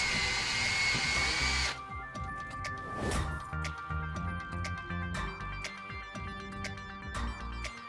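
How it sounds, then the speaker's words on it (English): A power drill with a 3mm bit whines steadily at close range for under two seconds drilling pilot holes for a window restrictor, then stops, followed by clicks and light handling noises. "Drill pilot holes with a 3mm drill bit."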